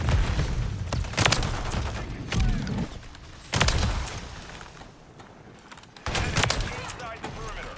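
Bursts of gunfire from STG assault rifles and SMGs in Call of Duty: Modern Warfare III multiplayer, several loud clustered volleys separated by quieter stretches with game noise, with talk over parts of it.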